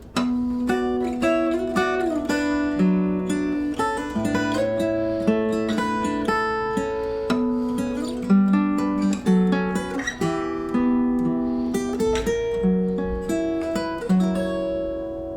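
Guitar melody played over chords in a triplet right-hand pattern, bright plucked notes ringing steadily over sustained chords for the full stretch, no talking.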